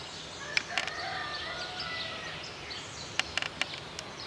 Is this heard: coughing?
no